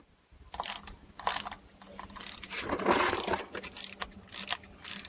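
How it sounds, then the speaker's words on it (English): A ratchet wrench loosens the 11 mm transmission drain plug on a Ford Escape with a 6F35 transmission, giving close, sharp bursts of rapid clicking in several separate strokes with short pauses between them. "put a ratchet on here, and this is going to be an 11 mil"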